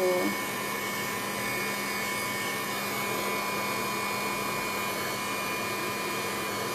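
A heat gun drying a mixed-media oval canvas blows with a steady, loud, even whoosh and a faint whine, running without a break.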